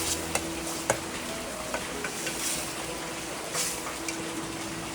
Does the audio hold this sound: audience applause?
no